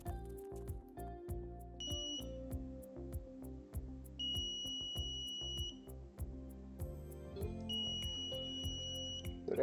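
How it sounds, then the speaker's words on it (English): Arduino buzzer in a traffic signal circuit sounds several steady electronic tones of varying length, one short and two longer, over a busy, rumbling background. "So that's how you connect a buzzer."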